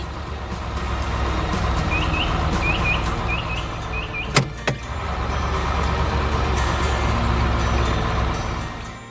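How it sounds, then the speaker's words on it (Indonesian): A tractor's heavy engine rumbles steadily and loudly throughout as it pushes soil away from a stuck truck's tires, with a few faint high chirps and two sharp knocks in the middle. "Traktor itu mulai menyingkirkan tanah di sekitar ban agar truk bisa bergerak lagi."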